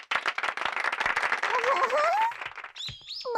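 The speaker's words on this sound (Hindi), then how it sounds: "तो बच्चों, साकुरा सान के लिए ताली बजाओ।" A cartoon classroom of children claps in a quick, scattered burst, with a voice rising over the clapping partway through and a brief sung or squealed voice at the end.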